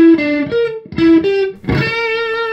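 Electric guitar played through an MXR Micro Amp clean boost placed before a distorted amp, three sustained overdriven notes or chords ringing out in turn, each struck then held, with no voice.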